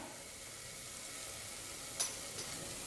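Ground cumin and garam masala sautéing in a pan for chana masala, a faint steady sizzle with a brief scrape of stirring near the end, no voices.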